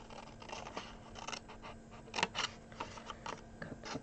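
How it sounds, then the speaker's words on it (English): Scissors cutting card blocks away for a homemade chocolate gift box: a close, quiet run of irregular snips and crisp scraping cuts with brief pauses, no talking. "So we're cutting up to the first cut, cutting this block away."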